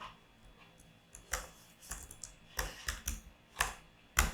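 Keys tapped on a computer keyboard while setting up a cloud configuration: sparse, irregular clicks in small bursts over a quiet room, with no talking.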